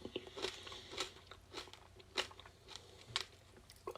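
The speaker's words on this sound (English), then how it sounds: "So let's go ahead and pop these right in my mouth. So you chew them first" Crunchy candies are chewed close to the mouth in a quiet, irregular series of sharp crunches and crackles, with no talking over them.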